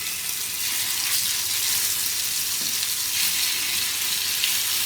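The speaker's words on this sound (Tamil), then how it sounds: "இந்தாண்ட வந்து ஃபிஷ் ஃப்ரை பண்ணுறேன்" Fish frying in coconut oil for a biryani, a dense, steady crackling sizzle that fills the whole stretch at close range, with a few faint scrapes and no talk.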